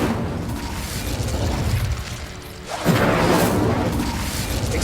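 Incendio fire spell cast in the Hogwarts Legacy video game, a rumbling whoosh of flame with a sharp burst halfway through, loud and close, followed by continued roaring crackle.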